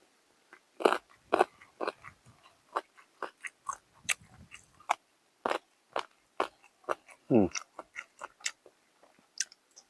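Someone eats tom yum chicken soup with oyster mushrooms and pork blood, with close, crisp bites, chewing and slurps coming in quick irregular bursts, and no talking.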